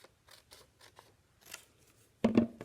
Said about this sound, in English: You can also fold from the top down and make a line and cut it out here.